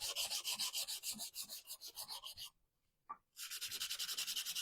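Rhythmic scratchy rubbing scuffs the top of a Dollar Tree jar in quick regular strokes, close and quiet, pausing briefly midway before resuming.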